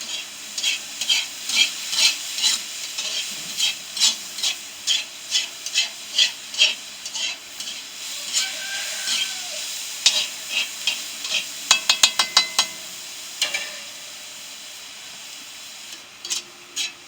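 Onions fry in a pan on a homemade stove over an outdoor fire, a close sizzle broken by a steady run of scraping stirs, about one per second, with a brief rapid clatter midway and no talking.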